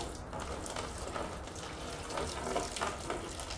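Old engine coolant from a 1971 Ford Custom is poured out into a container, a soft, brief splashing trickle of liquid heard close by at low volume.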